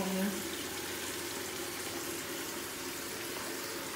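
Water from a garden hose pours steadily into a partly filled Aquarest Premium 600 hot tub, a continuous, even rushing and splashing with no speech.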